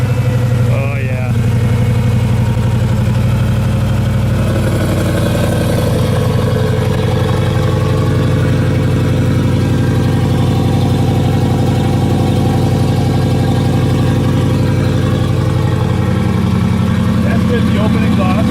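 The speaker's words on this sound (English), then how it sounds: "That's with the open exhaust." A 500 hp Hemi-swapped Jeep JK idles with its exhaust open, a steady deep rumble holding close and loud throughout, with people talking faintly in the background.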